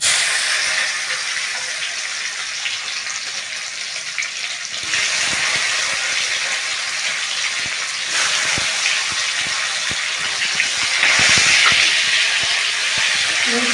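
Soaked cashews and raisins frying in a small wok for Gobindobhog rice basanti pulao, giving a steady close hiss with occasional louder bursts of sizzle and spatter throughout.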